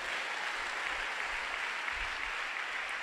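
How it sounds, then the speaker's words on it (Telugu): A church congregation claps together at a preacher's urging, a steady dense wash of hands filling the room throughout, fairly loud and continuous with no voices on top. "కొట్టి ఇప్పుడు చప్పట్లు గట్టిగా."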